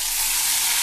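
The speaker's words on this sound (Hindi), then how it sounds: "ये लग गया छौंका।" Loud, bright sizzle of spices hitting hot oil while tempering Garhwali kafli, close up and continuous for a brief moment.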